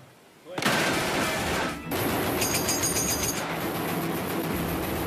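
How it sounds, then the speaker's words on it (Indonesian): Gunfire from German soldiers in a forest battle scene of a war film, a loud sustained burst of shots and rumbling action sound with no clear pauses, beginning abruptly after a quiet opening. "Serbuan peluru Jerman membuatnya terkejut."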